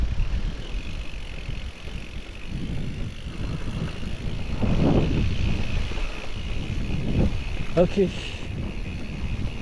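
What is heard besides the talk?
wind blowing during a mountain bike ride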